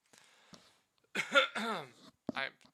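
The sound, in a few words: person coughing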